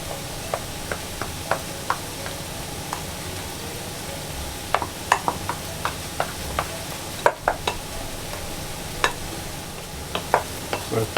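Mashed potato being worked through with a masher in a bowl while preparing a jerk tortilla, giving a steady run of soft squelching strokes with sharper clicks and taps scattered throughout, close and fairly quiet, with no talking.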